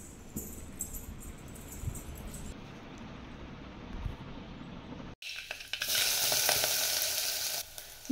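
Cumin, mustard seeds, garlic, coconut and a little red chilli powder frying in hot oil, giving a steady close sizzle that suddenly flares into a louder, brighter crackle partway through, with faint spoon and pan knocks.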